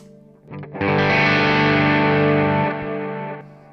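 A single distorted electric guitar chord on the bridge pickup, played through a Quad Cortex, rings out loud and sustained for a couple of seconds, then fades slightly as it holds.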